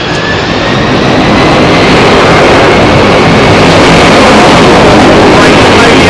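A Delta airliner departs runway 27R at London Heathrow in a blustery crosswind, its jet engines a loud, close, continuous roar that builds slightly and holds for the whole stretch.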